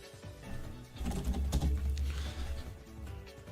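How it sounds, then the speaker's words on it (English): Typing on a computer keyboard comes through as quick, soft, irregular key clatter at moderate distance, continuous for a few seconds with no voices over it. "Best typer in football."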